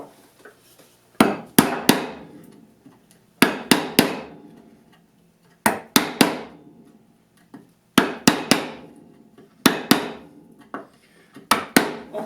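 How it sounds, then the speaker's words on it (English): Wooden mallet striking a chisel to chop inlaid dovetails in wood, sharp hard knocks in quick bursts of two or three blows separated by short pauses, close and clear with no talking. "And now I'm actually going to chop in from the end and pop out all that excess in one chunk."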